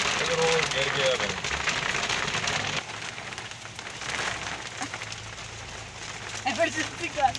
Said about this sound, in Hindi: बारिश ही बहुत तेज है ना